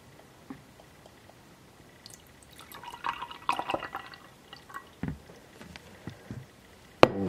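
Milk is poured and flows easily in a viscosity experiment, making soft trickling and dripping sounds that build to a brief splashy run, then scattered drips and a sharp clink near the end.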